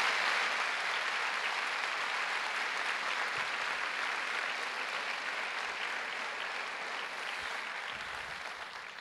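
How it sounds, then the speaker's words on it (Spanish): Church congregation on a Sunday morning applauding steadily at a low, distant level, the clapping slowly fading toward the end. "Dele fuerte ese aplauso al Dios de la gloria."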